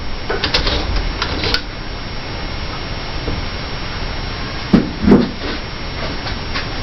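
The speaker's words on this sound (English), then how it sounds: "Here's what we're taking off with the peg shaver." A peg shaver trims hair-thin shavings from an old violin's peg, making short, dry scraping bursts that stand out close and clear over a steady background hiss.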